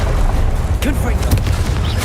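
Confringo, the blasting spell in Hogwarts Legacy, detonates in a heavy booming explosion. Deep rumbling bursts pile up over steady battle noise, loud and close throughout.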